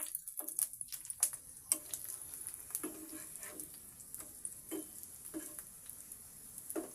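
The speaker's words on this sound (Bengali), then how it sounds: "দিয়ে আস্তে আস্তে ভেজে নেব।" Food sizzles gently in a pan over low heat, a soft steady crackle broken by scattered clicks and utensil taps as pieces are turned one by one.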